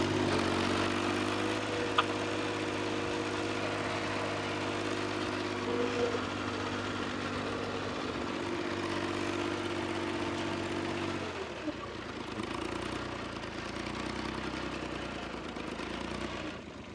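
A farm tractor engine runs steadily with a low droning hum and a constant idle-like throb, fairly faint and even, with the tone shifting partway through.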